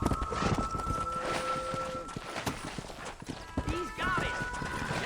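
Hooves of horses in the video game Red Dead Redemption clip-clop steadily along a road, with wind, creaking and bits of game speech layered over the continuous trotting rhythm.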